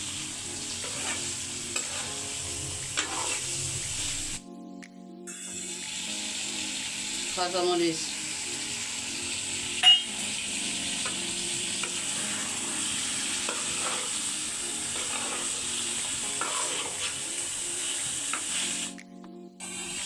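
Gutum fish being stirred gently with spices in a pan, soft scraping and stirring strokes with a low sizzle running steadily throughout, while a person talks over it and a few short clinks stand out.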